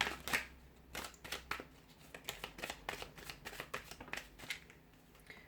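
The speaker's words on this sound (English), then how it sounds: "So we'll give the cards a shuffle" Tarot cards are shuffled close up in quick, repeated riffling bursts, quiet and crisp, with no talking.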